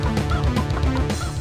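Repeated honking, clucking bird calls from a chicken in the Doom mod AeoD, a rapid run of short squawks over a dense, loud game soundscape with low rumbling underneath.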